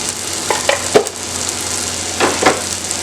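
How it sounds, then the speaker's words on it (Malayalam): Mackerel thoran frying in a pan with turmeric powder as it is stirred, a steady low sizzle broken by a few short scraping clinks of a spoon against the pan, close and clear with no talk. "ഒന്ന് ഇളക്കി കൊടുക്കാം."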